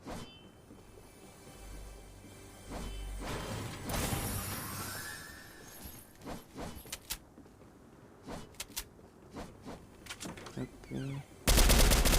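Gunfire from the video game Fortnite: scattered sharp shots and short bursts crackle through a busy game mix, with a loud blast near the end.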